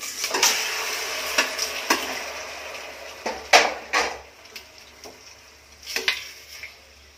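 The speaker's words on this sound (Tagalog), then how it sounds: "Lagay natin yung chicken natin." Raw chicken pieces for adobong manok go into a pan of already-cooked onions, giving a series of sharp clinks and scrapes of utensil on the pan with a light sizzle between them, close and fairly quiet, with no talking.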